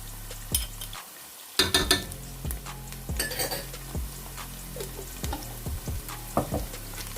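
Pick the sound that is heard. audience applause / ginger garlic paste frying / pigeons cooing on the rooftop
ginger garlic paste frying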